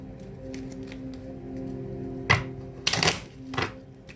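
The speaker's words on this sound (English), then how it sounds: "All right, so I'm shuffling these. I want to shuffle them." Quiet papery riffles and crisp snaps of tarot cards being shuffled, with a few sharper bursts near the end over a soft background hum.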